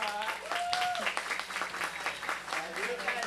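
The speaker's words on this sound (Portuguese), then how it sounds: "Palmas para o Gabivan" Audience applause for Gabivan at a seminar on transmasculine health rights in Brazil, steady clapping from a seated crowd heard somewhat faintly, with voices and cheering mixed in throughout.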